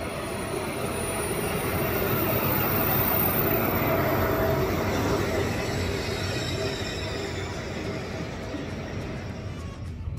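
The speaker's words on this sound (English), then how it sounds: "Our train is coming." A Trenitalia train rumbles steadily at a platform in Rome with continuous rolling roar and a high metallic squeal above it, loud and close, with no talking.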